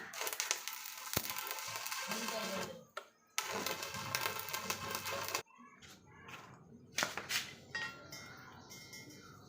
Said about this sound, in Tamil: இப்போ அந்த கட் பண்ணதை வந்து பெண்ட் பண்ணி வெல்ட் வச்சிடுறேன்.